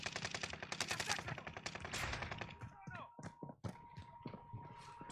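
Rapid automatic gunfire rattles in a dense burst in a video game shootout, then gives way to scattered single shots and impacts as voices talk over the action.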